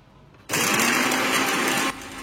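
A Philips blender motor switches on abruptly and runs at a steady, loud whir for over a second, then drops back to a quieter hum.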